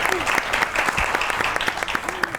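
A studio audience claps steadily for a singer at a variety show taping, with sustained, dense applause and a few voices underneath.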